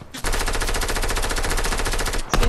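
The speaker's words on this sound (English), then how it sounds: "See, I'm getting shot at on the right now." Rapid automatic gunfire in a video game, fired at the player, sounds as a loud continuous burst of closely spaced shots lasting about two seconds before cutting off.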